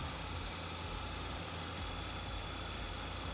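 A somewhat old T-150K tractor engine idles in Farming Simulator 22, giving a steady, low, even rumble that holds at the same quiet level throughout with no talking.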